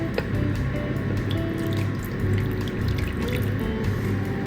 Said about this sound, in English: Now we are going to add half a cup of boiling water to the tray.